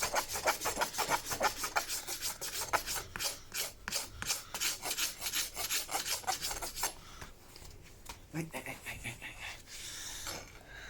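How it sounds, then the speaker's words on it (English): A farrier's rasp files a racehorse's hoof in quick, steady back-and-forth strokes, close and loud, before the rhythm breaks into a few quieter scrapes and shuffles near the end. "we're just going to finish it off with a nice rasp."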